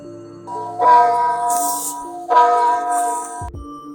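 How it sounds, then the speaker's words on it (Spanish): A church bell rings out loudly, two strong strikes whose rich, humming tones hang and overlap before fading, with no one speaking. "la campana de la iglesia empezó a sonar sola"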